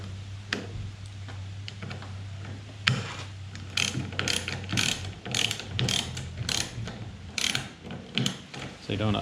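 Plastic fittings and lock nuts are tightened on fishing boat hull wiring, giving irregular close clicks and ratcheting ticks in short bursts over a low steady hum.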